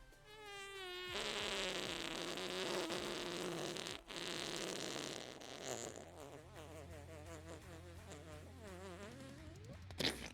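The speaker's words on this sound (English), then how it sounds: "Was that a fart?" A long, buzzy, sputtering fart rumbles close by, wavering in pitch and trailing off into uneven flutters before a final small burst.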